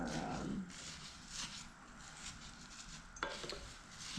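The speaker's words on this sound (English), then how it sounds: "we're going to go ahead and stir this up" Homemade granola mixture stirred in a pot, with soft scraping and light clinks of a utensil against the pot, quiet and close, with a brief sharper knock near the end.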